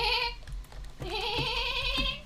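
Goat or sheep bleating in the background, two drawn-out wavering bleats in quick succession, fairly loud and clear against a low steady hum, with no talk.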